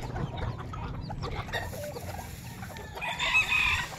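Bantam chickens cluck steadily during feeding time in a rural yard, the calls fairly close and continuous, with a louder burst of clucking near the end.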